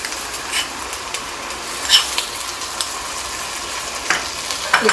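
Masala for kadhi pakora frying in a pan gives a continuous close sizzle with scattered crackles and light stirring scrapes throughout.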